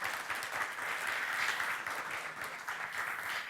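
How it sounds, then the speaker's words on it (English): Sustained applause from a medical conference audience, a dense steady clapping that continues evenly throughout with no speech over it. "I think we have to applaud them."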